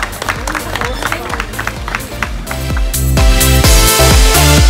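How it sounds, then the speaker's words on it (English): A crowd at a property auction in North Adelaide applauds after the sale, with clapping that swells under and after background music and some voices, growing louder and fuller in the last seconds. "give them a big clap."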